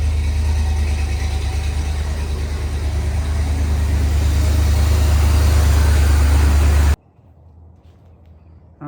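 An old car's engine runs loud and steady with a deep low rumble for about seven seconds, then cuts off abruptly, leaving near silence with faint clicks.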